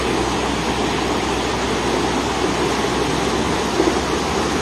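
The swollen Chancay river rushes with great force, a loud, steady broadband roar of churning floodwater that fills the scene without pause and with no voices over it.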